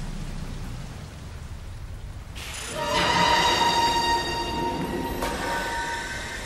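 Heavy rain storm pouring steadily, with a loud rumbling swell of thunder that breaks in partway and lingers, dense hiss throughout, no talking.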